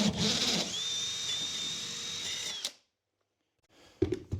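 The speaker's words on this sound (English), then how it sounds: "Then go to the other side and drill through." A power drill bores through the wooden wall of a tiny cabin in one steady, loud whine lasting a few seconds, then stops abruptly into near silence before brief clatter and handling noise.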